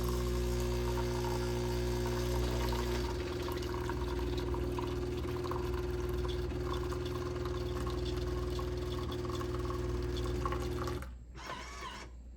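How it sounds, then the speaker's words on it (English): A Jura E8 coffee machine streams water from its back spigot with a steady pour and a constant mechanical hum; the hum cuts off near the end and a brief trickle follows. "after it's done with the 3 ounces for the espresso, you'll see water coming out of the back spigot."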